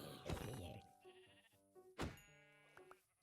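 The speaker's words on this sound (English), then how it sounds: "I hear sheep." Sheep bleating in Minecraft: two loud, wavering bleats, one at the start and a second about two seconds later, with near silence between them.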